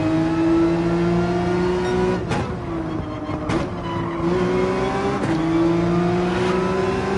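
A Porsche 911 race car in Gran Turismo 7 holds a steady, loud engine drone on a tight, narrow track, with a few sharp shifts and brief dips in pitch between stretches of sustained revving.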